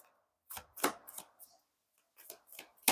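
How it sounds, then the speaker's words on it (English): A deck of tarot-style cards being shuffled by hand, a handful of short papery riffles and slaps spread across a few seconds, close and fairly quiet with pauses between bursts. "I'm shuffling the cards and it's like they don't want to come out."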